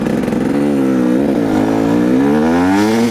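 A flooded motorcycle engine revs loudly and continuously for about three seconds, its pitch rising and falling as it strains and bogs.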